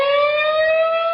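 A loud, steady fire warning siren holds one sustained tone with stacked overtones, close and alone with no voices.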